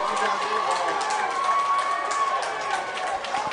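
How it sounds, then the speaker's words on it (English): Curley soccer fans at a MIAA championship applaud a player coming off, a continuous murmur of clapping and cheering with talk over it. "Curley fans applaud him coming off."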